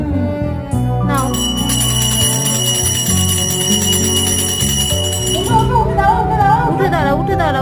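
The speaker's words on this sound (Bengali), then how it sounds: "ভালো করে ঘন্টাটা বাজাও।" A hand bell rung during evening prayer at home, a steady bright metallic ringing that carries through the whole stretch with harmonic overtones, loud and close, alongside other tonal sounds and a voice.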